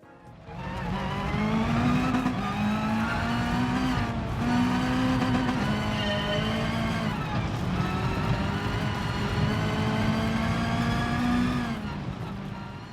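A Toyota 86 Group B race car engine in Gran Turismo Sport, in a night race at Colorado Springs, drones loud and steady with pitch rising and dropping through gear changes over a long continuous run.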